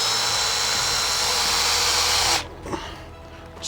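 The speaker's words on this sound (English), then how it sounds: "I'm going to do a little pilot hole to get my hook started" A power drill boring a small pilot hole for a hook at the top of a garden tomato trellis, a steady high whine for about two seconds that stops abruptly, followed by faint handling noise.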